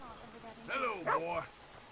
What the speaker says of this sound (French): Oh le caniche royal, j'en avais jamais vu.